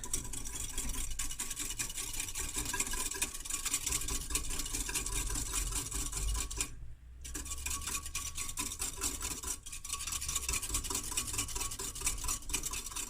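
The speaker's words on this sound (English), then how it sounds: "I'm just going to stir it" Sugar and instant yeast are stirred in a bowl, giving a continuous close scraping swish that pauses briefly midway, with a low steady hum underneath.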